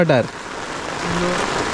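Heavy monsoon rain falls steadily outdoors, a dense even hiss that runs throughout after a brief voice at the start.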